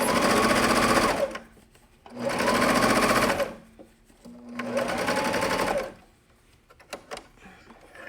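A home sewing machine stitching jersey fabric runs in three loud, even bursts of about a second each, separated by brief pauses, with small clicks of handling afterward.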